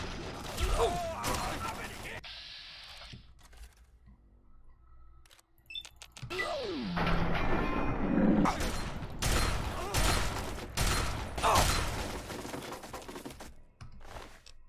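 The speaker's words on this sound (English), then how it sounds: "The lever action rifle, I love it." Lever-action rifle in Fallout 3, worked and fired several times, sharp broadband cracks and metallic mechanism clacks scattered through a busy game scene with other gunfire and effects.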